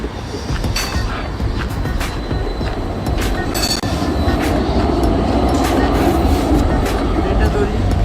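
A train pulls into a station in Austria with a loud, steady rumble and rattling wheels and brakes. A voice talks over it throughout.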